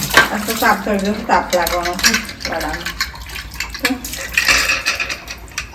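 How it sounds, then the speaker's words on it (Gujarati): Dishes clatter and water runs as utensils are washed nearby, with a person talking over the clinking and splashing. "વાસણ ધોવે છે મારી મમ્મી"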